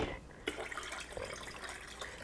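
Water pours and trickles into a Nama M1 juicer, a soft, quiet, continuous splashing stream with faint dripping, heard alone.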